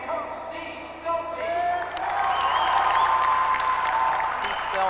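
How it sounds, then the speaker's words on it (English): A crowd at a 1987 high school basketball tournament swells into a sustained roar of cheers and applause, loud and continuous, with talk mixed in. "Appreciative roar from the crowd."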